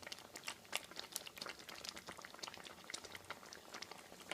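Pumpkin kheer thickening over a low flame, a soft, steady bubbling with faint pops and crackles throughout, close and quiet with no talk.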